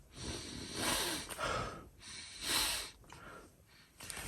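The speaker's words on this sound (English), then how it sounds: "But I'll do a sniff test." Several close nasal sniffs at a leather Filofax Malden organiser, short breathy bursts spaced irregularly and quiet overall.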